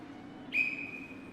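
A single sharp whistle blast in the video game Not for Broadcast, starting abruptly and holding a steady high tone for most of a second over a faint background hum, no talking.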